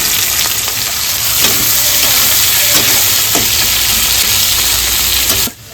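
Chopped onion and spices frying hard in a pan for kosha mangsho, a loud, close, continuous sizzle with a few stirring scrapes, cutting off abruptly at the end.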